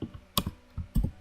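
A computer keyboard shortcut, Ctrl X, being pressed, heard as a few close, sharp key clicks in quick succession on their own.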